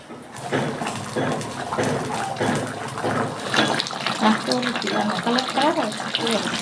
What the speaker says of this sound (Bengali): জলটা ফুটে উঠেছে, এবার আমি দিয়ে দিচ্ছি মাছ।